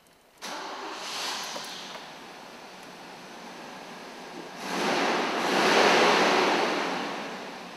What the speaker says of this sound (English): You push your clutch pedal to the floor and attempt to start the vehicle.